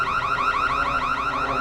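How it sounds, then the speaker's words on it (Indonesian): A car alarm wails close by, a rapid repeating electronic siren cycling up and down in pitch without pause. "Rocky tiba-tiba menemukan remote untuk alarm dan mengaktifkannya"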